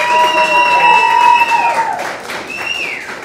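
An audience at a diner open house claps and cheers loudly, with whooping, tonal voices riding over a wash of applause that eases off toward the end.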